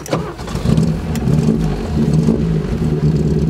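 A car engine with a fault that made it accelerate by itself runs steadily up close, a low rumbling drone that rises slightly in pitch as it revs, with no voices.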